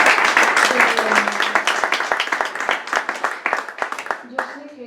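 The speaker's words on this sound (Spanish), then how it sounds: "aplauso. por favor." An audience at a Spanish-language poetry evening breaks into warm applause, a dense, steady patter of many hands clapping near and loud, thinning slightly toward the end as a voice begins.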